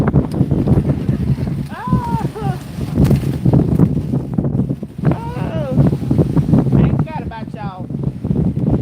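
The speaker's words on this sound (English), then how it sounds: "Oh, the wind ain't playing with nobody" Strong outdoor wind buffets the microphone with a constant low rumble and roar, gusting throughout under a voice talking.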